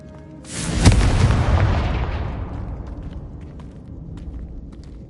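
A Confringo fire spell from the video game Hogwarts Legacy detonates in a single loud booming blast that rolls out into a long, fading rumble with scattered crackles trailing behind.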